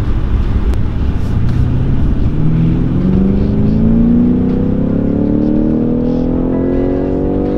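A BMW M5 F90 Competition accelerates hard in a long continuous run, its engine note climbing steadily in pitch through the gear, loud and close throughout with no talk.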